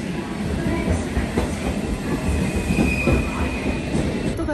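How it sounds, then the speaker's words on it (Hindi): A train pulling into Whitechapel station in London, with steady rumbling rail noise, wheel squeal and faint clatter of carriages rolling close by throughout, no talking. "सो बस ट्रेन आने ही वाली है मेरी।"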